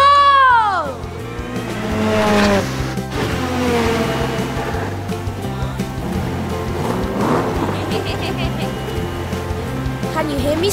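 A cartoon race car speeds along with a loud engine whine and brief tire squeals, and excited voices talk over it throughout.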